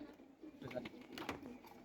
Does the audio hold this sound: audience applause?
no